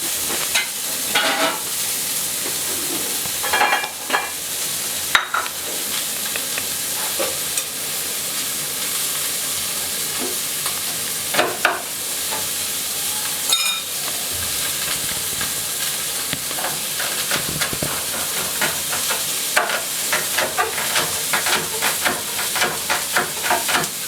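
Finely chopped onions sizzle steadily in a hot pan for a reduction, a continuous frying hiss with occasional stirring scrapes and clicks throughout, close and fairly loud with no talking.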